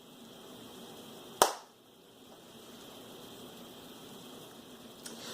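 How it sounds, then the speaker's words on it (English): A single sharp hand clap rings out clearly in a quiet room, followed by a brief fading tail and near silence, with a faint tap near the end. "I'm going to clap for emphasis."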